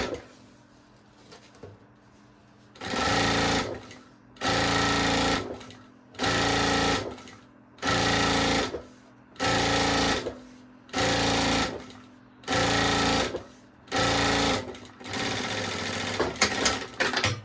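A sewing machine stitches a fabric cover for a baby organizer in loud, close bursts of rapid mechanical whirring, about eight runs separated by short pauses and a quieter hum, with no talking.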